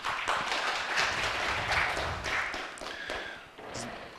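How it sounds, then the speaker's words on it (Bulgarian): An audience at a talk on open-source Bulgarian software for shops and restaurants gives steady applause, a continuous wash of clapping from a room full of people, moderately loud and easing slightly toward the end. "Аплодисменти!"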